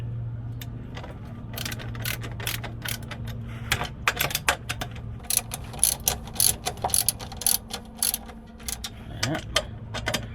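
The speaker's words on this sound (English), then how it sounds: "Now they just need to be tightened up. That's where I use the socket wrench." Hand socket wrench ratcheting as bolts are tightened on Tyger running boards fitted to a 2024 Nissan Frontier. Quick bursts of close metallic clicking come in uneven runs over a steady low hum.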